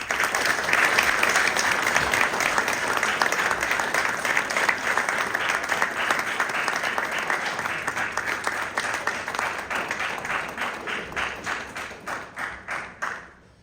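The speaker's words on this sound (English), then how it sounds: "Can I give them a round of applause?" A school spring band concert audience claps in a sustained, dense round of applause that holds strong, then thins into scattered individual claps and fades out.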